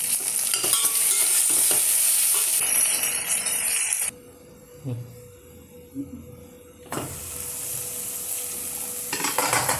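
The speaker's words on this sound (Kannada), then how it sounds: "ಈಗ ಆನಿಯನ್, ಟೊಮೊಟೊ ಎಲ್ಲ ಸ್ವಲ್ಪ ಫ್ರೈ ಆಗಿದೆ." Onions and tomatoes frying in a pot for biryani, with a loud sizzle and stirring scrapes that drop to a quiet lull midway with soft clinks before the sizzling returns strongly.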